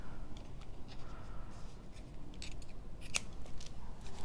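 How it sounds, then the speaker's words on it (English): Scissors snip paper pieces for a junk journal in a series of close, crisp cuts at an uneven pace over a low background hum. "cut some of these just a teeny bit shorter"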